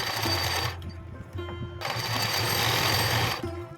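An electric sewing machine stitches pillow cover fabric made from old clothes, whirring in close bursts with a short pause between runs.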